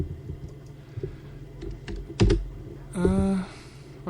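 Someone types on a computer keyboard with scattered close clicks and a quick burst of keystrokes, then a brief tonal whir near the end.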